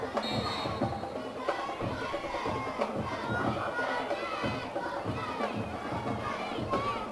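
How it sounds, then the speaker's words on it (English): Crowd noise at a high school football game between ACA and Demopolis, a steady murmur of chatter and scattered shouts from the stands heard from a distance. "Good crowd from Demopolis tonight. What a good crowd."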